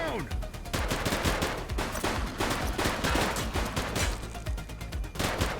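Rapid, dense gunfire from a suspect in a police action sandbox game hammers out in loud, continuous bursts, a barrage of sharp shots overlapping with other game noise throughout.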